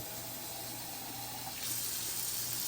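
Water runs faintly and steadily from a tap into a measuring cup, about 200 milliliters, growing slightly louder partway through, with no voices.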